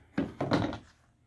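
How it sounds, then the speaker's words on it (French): A vehicle access panel is pulled upward and unhooked, making two or three close, hollow knocking thunks in quick succession that fade into a short rattle. "on va juste tirer le panneau vers le haut pour le décrocher comme ceci"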